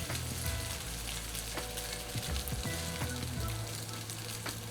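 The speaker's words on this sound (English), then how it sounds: "I'm soaking them in this egg wash. I'm putting them on the hot skillet." Egg-soaked bread chunks frying on a hot cast iron skillet as French toast sticks, a steady close crackling sizzle with occasional soft stirring and scraping, no voices.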